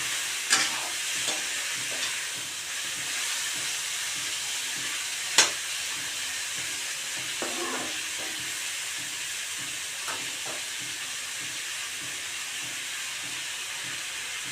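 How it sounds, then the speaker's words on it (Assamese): Chicken meat fries in a pan with a steady, close sizzle as it is stirred, and a few sharp utensil clinks and scrapes stand out above the continuous hiss. "মাংসখিনি ভাজি থাকোঁতে মাজে মাজে এনেকৈ লাৰি দিব।"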